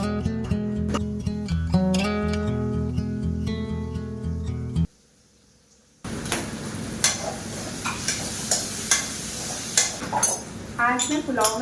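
Cooking pots and utensils clink and scrape in a home kitchen with sizzling frying, following a stretch of music, with scattered sharp metallic knocks close by.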